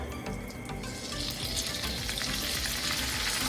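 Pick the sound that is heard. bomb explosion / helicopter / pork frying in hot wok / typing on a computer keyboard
pork frying in hot wok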